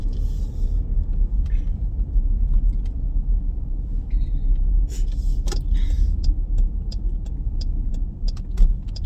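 A car driven along a rural village road, its steady engine rumble and tyre noise running low and continuous throughout, with faint clicks and a brief rattle near the end.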